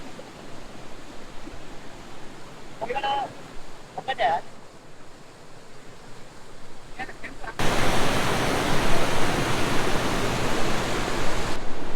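Gollapalli waterfall in Raichur roars as broadband rushing water, moderate at first under brief voices, then swelling loud and steady from about halfway through to the end.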